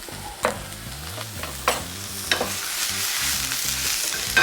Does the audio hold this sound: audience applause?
no